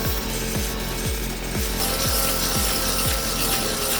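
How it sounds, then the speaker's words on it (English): Rotox tractor-mounted PTO stump grinder chews into a stump, its spinning drilling head producing a loud, continuous grinding roar with regular rhythmic pulses about every half second. "The drilling head spins deep into the stump, grinding it into wood chips quickly and cleanly."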